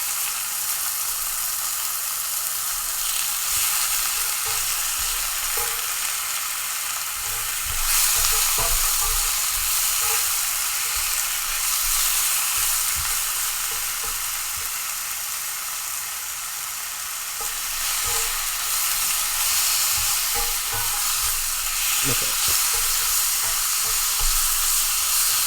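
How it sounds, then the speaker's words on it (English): Meat sizzling and frying steadily in a pan, a loud continuous crackle with occasional pops and small clinks. "all you guys can hear right now is frying meat"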